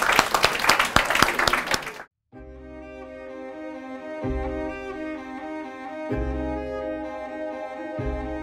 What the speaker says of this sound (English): Maybe you guys would like to give a round of applause before my chef begin